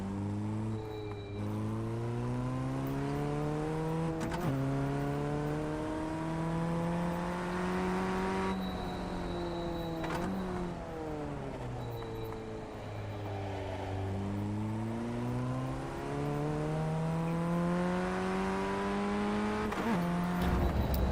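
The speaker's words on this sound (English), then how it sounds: "I don't know if maybe the game sound drowns out the engine" Inside an iRacing race car at Laguna Seca, the engine drones continuously and close, its pitch climbing through several gears, dropping on downshifts into corners, and then rising again.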